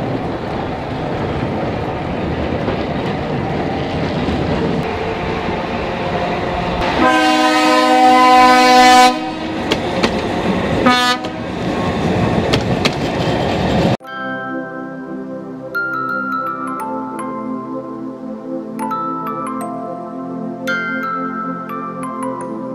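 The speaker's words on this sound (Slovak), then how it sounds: "Sezóna Trenčianskej elektrickej železnice v roku 2020 sa začala trojkráľovou jazdou električky" A historic electric tram runs on the Trenčianska Teplá–Teplice railway, rumbling loudly along the track, then sounding a long drawn horn blast with a second shorter one before the noise cuts to quieter tonal music.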